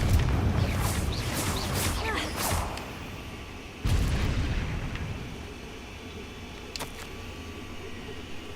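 Fiery explosions from the Confringo spell in Hogwarts Legacy: a roaring blast fades, then a second boom hits at mid-clip and decays into rumbling debris, with a faint crackle near the end.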